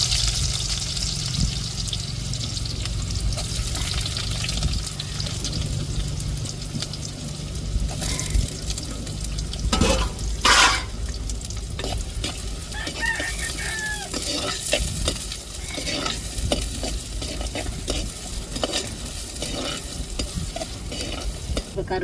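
Onions dropped into hot oil with mustard seeds, a loud steady sizzle that flares as stirring begins, with spoon scrapes and crackles close by and a rooster crowing faintly in the background.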